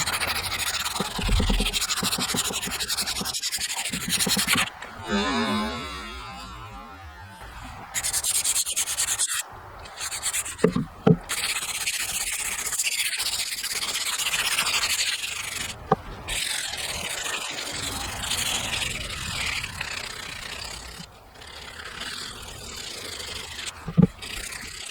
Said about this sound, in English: I think I want to sand a little bit more here at the end